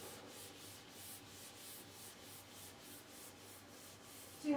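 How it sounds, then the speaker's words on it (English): Rhythmic back-and-forth scrubbing of an old kitchen countertop with an abrasive pad, steady rasping strokes repeating about twice a second, close and moderately quiet. "And just scrub."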